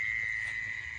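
Crickets trill at night in a quiet rural spot, a steady unbroken high-pitched drone holding at even loudness throughout, with a low rumble underneath and no voices.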